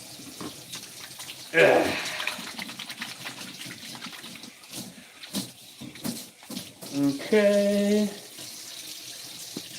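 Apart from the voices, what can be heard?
tap water running while washing hands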